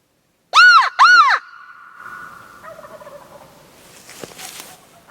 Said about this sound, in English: Two birds gobbled back at that one.